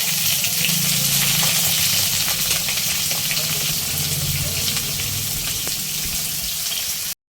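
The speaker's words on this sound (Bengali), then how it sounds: "এবারে তেলের মধ্যে পটলগুলো দিয়ে ভেজে নেবো ভালো করে" Pointed gourd frying in hot oil gives a steady, close, loud sizzle and crackle with faint stirring scrapes underneath, continuing unbroken until it cuts off at the end.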